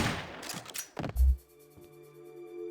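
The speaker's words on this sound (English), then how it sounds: "heard gunfire." Gunfire in the video game Metal Gear Solid Peace Walker, a few sharp bursts of shots in quick succession followed by a low thump, then quieter game tones ringing on.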